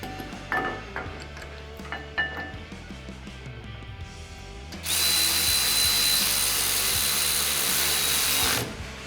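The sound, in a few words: power tool bolting brake spacer bracket and caliper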